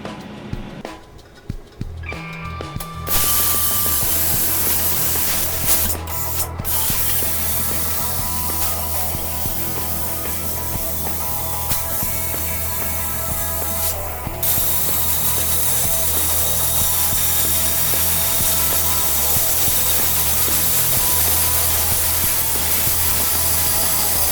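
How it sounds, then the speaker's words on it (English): Plasma cutter slicing apart a welded chambered car muffler in a workshop, a steady loud hissing roar with a low electrical hum running continuously after a brief start. "using my plasma cutter, I'm going to start cutting this apart"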